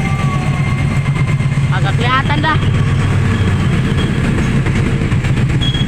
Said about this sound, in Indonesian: Nah, ini biasanya Kereta Jaya nih